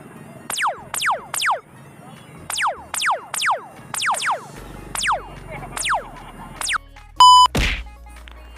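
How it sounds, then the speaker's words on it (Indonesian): A laser gun notification ringtone on the Grab driver app fires a series of sharp descending zaps in uneven clusters, loud and close, ending with a brief electronic beep and a thump. "itu untuk bunyi notifikasi daripada laser gun guys"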